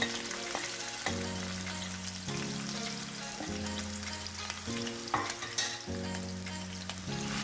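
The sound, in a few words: frying and stirring onion and garlic paste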